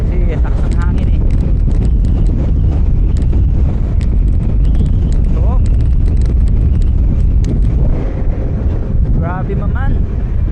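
Strong wind roars and buffets the microphone continuously while riding a motorcycle from Imus to Indang past Tagaytay, a loud steady rush with a rider's voice speaking over it.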